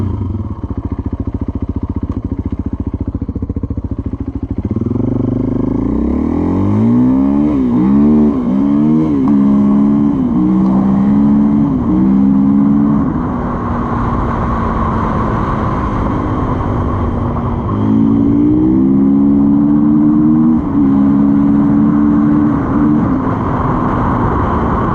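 A 2024 Gas Gas EC450F four-stroke dirt bike pulls away and rides steadily close by, its engine note climbing and dropping through repeated gear changes and throttle surges, loud and continuous with no talking.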